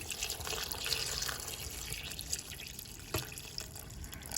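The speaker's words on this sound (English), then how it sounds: "Then we'll add the same chili water." Chili water pours and trickles steadily into a blender at close range, with a soft watery gurgle and a couple of small clinks, no talking.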